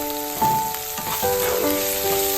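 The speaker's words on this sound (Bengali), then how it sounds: "পেঁয়াজটাকে লো ফ্লেমে ভেজে নিতে হবে" Onions frying in oil over a low flame after a tempering of dried red chilli and nigella seeds, producing a continuous close sizzle with faint pops and a steady background hum.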